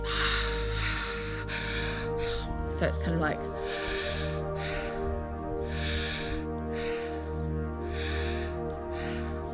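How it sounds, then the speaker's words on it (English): Continuous connected circular breathing, rhythmic whooshing inhales and exhales with no pause between them, repeating steadily in the foreground as someone speaks softly over it. "so there are no pauses between the inhale and the exhale, or the exhale and the inhale"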